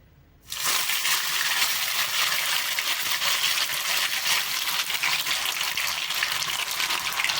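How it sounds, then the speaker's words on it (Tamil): Soya nuggets drop into hot oil and set off a sudden, loud, dense sizzle that keeps going evenly and close at hand after a brief quiet start. "ஸோ இப்போ வந்துட்டு நம்ம போட்டு நம்ம பொரிச்சு எடுத்துக்கலாம் நம்ம எடுத்து வச்சிருந்த நகெட்ஸ் எல்லாம்"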